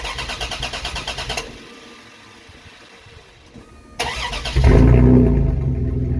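A 1997 Dodge Dakota V6 with its exhaust dumped beside the driveshaft ahead of the axle. The starter cranks rhythmically, then goes quiet for a pause before the engine fires up loud and settles into a rough, throaty idle.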